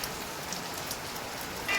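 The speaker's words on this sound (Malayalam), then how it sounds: "തലേന്ന് രാത്രി തുടങ്ങിയ മഴ ഇപ്പോഴും മഴ തോർന്നിട്ടില്ല" Steady rain from Cyclone Montha that has poured since the previous night, a dense, even hiss of drops on surfaces, continuous and fairly near with no voices.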